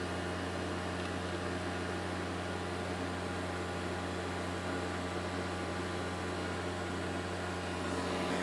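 An AC vacuum pump pulls a vacuum on a BMW E90 car refrigerant system, giving a steady, constant mechanical drone with an even hum that runs unchanged throughout, no voices over it.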